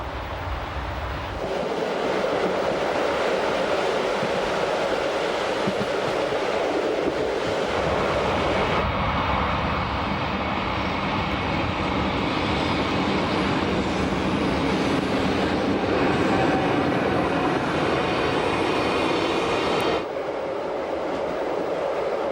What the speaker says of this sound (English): The train passes for the second time over the 152-meter-long iron girder Hinterrhein viaduct.